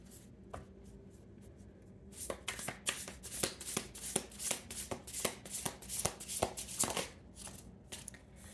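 Tarot cards shuffled by hand at close range, a rapid run of crisp riffling slaps and flicks that grows denser and louder after the first couple of seconds.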